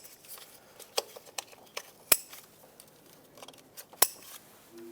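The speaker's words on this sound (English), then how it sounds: "I'm going to plug these in. Make sure they all click." Electrical connectors snapping onto the variable valve timing solenoids of a 2014-2021 Mazda 6 engine, giving a series of small plastic clicks and handling taps, with two sharper, louder clicks standing out, close and in a quiet garage.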